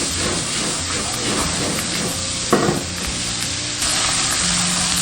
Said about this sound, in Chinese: 把蒜苗炒出香味过后就可以关火了